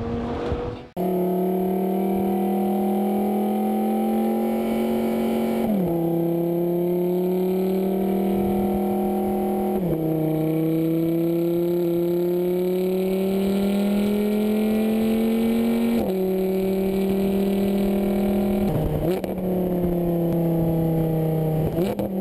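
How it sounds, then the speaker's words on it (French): A V10-engined car laps a race track, its engine note holding loud and steady, rising in pitch through each gear, then dropping sharply at upshifts around five, ten and sixteen seconds, with no voices. "Vous avez envie d'entendre le V10 s'exprimer et nous allons vous satisfaire en concluant l'émission par un tour de piste"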